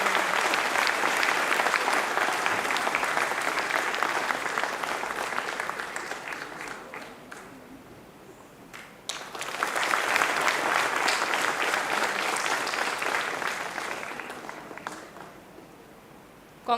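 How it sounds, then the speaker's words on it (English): A graduation audience applauds the toppers with sustained clapping that fades, pauses briefly, then swells again in a second long round, fairly distant and filling the hall. "With a huge round of applause for overall and PGDM 2 first rank"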